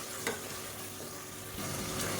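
Chopped tomatoes sauté in hot oil with fennel in a pan, giving a steady, close sizzle and fry with occasional stirring scrapes, heard alone without talk.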